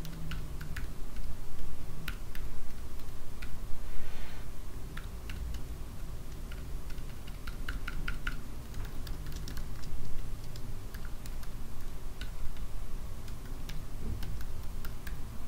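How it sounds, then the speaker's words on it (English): Steady typing on a computer keyboard while writing text in the Nano editor on a Linux command line, a continuous run of close, crisp key clicks at an even pace over a low background hum. "I'm going to type something like the following"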